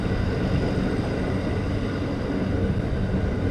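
A suburban train travelling at night between Khardah and Dum Dum near Sodepur gives a steady, loud rumble heard from inside the carriage, with no talk.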